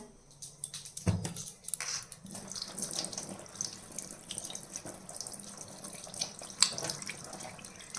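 Tap water runs steadily into a sink while tilapia fish are washed under it, with soft splashing and handling noises close by and no talking.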